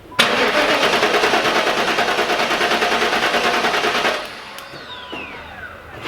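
Pontiac Trans Am with a fourth-generation LT1 V8 cranking during a compression test, a loud steady rhythmic starter whir with chugging pulses for about four seconds, then stopping and leaving fainter ringing and background noise.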